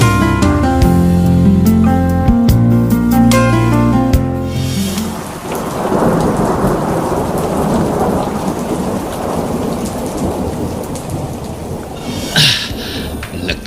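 Heavy rain pours in a dense roar while thunder rolls loudly through a radio drama storm effect, entering after a short stretch of music fades out; a sharp crack of thunder breaks near the end.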